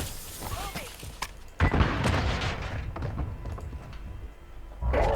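A grenade explodes in the mobile shooter game Warzone Mobile, a loud booming burst partway through over a rumbling in-game background with other thuds and bangs.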